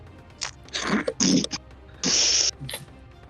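A voice blows and sputters through the lips in several bursts, imitating a fart, with a longer raspy blast near the end.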